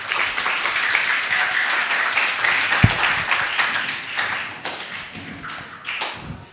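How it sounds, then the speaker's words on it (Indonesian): Audience at a children's outreach session applauding, a dense sustained burst of clapping from a roomful of people that gradually thins out, with a few louder thumps mixed in. "Beri aplaus untuk hari ini."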